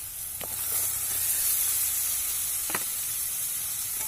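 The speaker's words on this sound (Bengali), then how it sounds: "এবার এর মধ্যে মাংসগুলো অ্যাড করে দিচ্ছি" Pieces of meat added to spices frying in hot oil for a Bengali home-cooked dish, giving a steady broad sizzle and hiss with a couple of brief clinks, with no one speaking.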